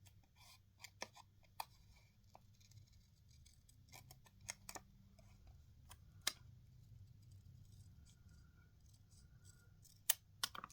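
Scattered sharp snips and clicks at a quiet level over a low steady hum, like scissors cutting paper, with a few louder snaps near the end.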